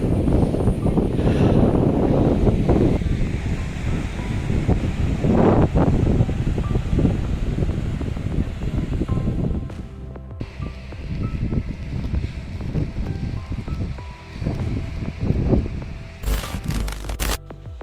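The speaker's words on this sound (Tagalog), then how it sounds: "Pero ngayon mas mahangin ngayon eh." Steady, broad wind roar buffets the microphone throughout, with rustling gusts and occasional handling bumps; no clear talk.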